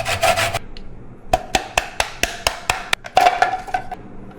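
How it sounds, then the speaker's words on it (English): An orange is zested on a grater for crème brûlée, with a quick burst of rasping, then about a dozen short, evenly spaced scraping strokes, close and fairly loud. "mình zest cái orange, mình lấy cái da của nó"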